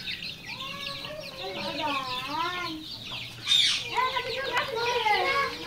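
On a poultry farm holding hens and roosters, birds cluck and call nearby in repeated rising and falling bursts, loud and close, with some louder squawks toward the end.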